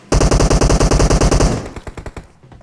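Rapid automatic gunfire in the PUBG Mobile battle game, a loud close burst of about fifteen evenly spaced shots, then a few scattered, fading shots with echoes.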